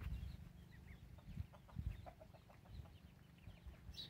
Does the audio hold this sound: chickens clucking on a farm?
yes